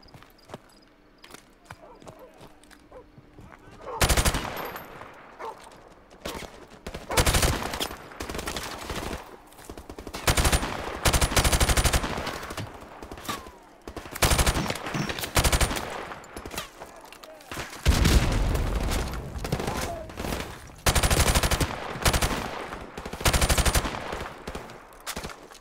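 Automatic gunfire in the video game Call of Duty: Modern Warfare Remastered, loud repeated bursts of rapid shots separated by quieter gaps, with game noise between.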